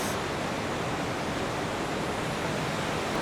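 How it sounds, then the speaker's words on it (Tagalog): Maria Cristina Falls in Iligan City, a waterfall with a strong rushing current, produces a dense, even roar of broadband water noise, loud and unbroken throughout, with no talking. "Sobrang lakas ng agos. At ayun na ang Maria Cristina Falls."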